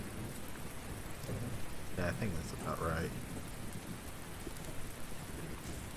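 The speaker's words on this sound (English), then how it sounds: "take advantage of how rainy this place is" Steady rain and distant rumbling thunder set the mood of a gloomy Barovia scene in a Curse of Strahd tabletop session, a dense continuous wash as a voice speaks briefly over it.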